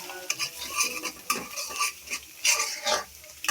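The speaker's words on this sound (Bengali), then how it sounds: "তো ডিমটা ভাজা ভাজা করে নিতেছি" An egg with salt fries in a pan in a village kitchen, its sizzle broken by repeated scraping strokes of a spatula stirring it, close and fairly loud.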